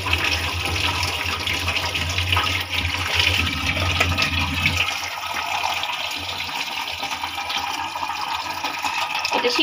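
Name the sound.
washing eggs under running tap water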